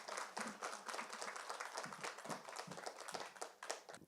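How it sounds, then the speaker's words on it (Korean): Applause from a symposium audience welcoming a speaker, steady, moderately dense clapping heard at a distance and fairly faint, with no talking over it. "큰 박수 부탁드립니다."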